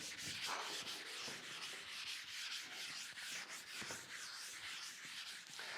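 Steady rubbing and scrubbing, like wiping a classroom board clean, continuous with rhythmic strokes, close and moderately quiet, no voices.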